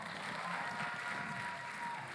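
An audience at a women's panel discussion applauds the panel with steady, dense clapping that holds for a couple of seconds.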